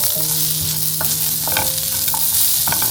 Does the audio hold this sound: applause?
no